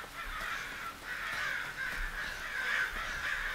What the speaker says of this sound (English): There's a lot of crows, so that's not a good sign.